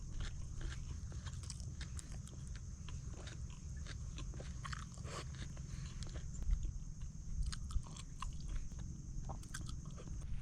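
Boiled cassava being eaten outdoors by a lone person on a fishing trip, with soft, irregular biting and chewing sounds running throughout over steady low background noise, and no talk.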